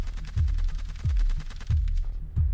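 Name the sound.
gunshots fired at gendarmes' vehicle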